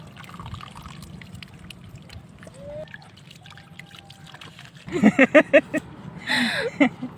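Water gushes and trickles steadily out of the shore in a rural coastal spot, a low continuous wash, before voices break in near the end.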